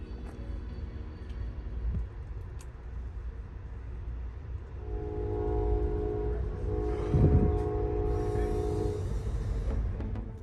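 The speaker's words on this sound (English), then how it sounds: "The familiar sound of our train's horn" An Amtrak train horn heard in the early morning from aboard the train. It gives one sustained, slightly distant blast of several seconds over the low rumble of the moving cars, fading out at the end.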